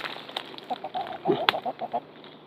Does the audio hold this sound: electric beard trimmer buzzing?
no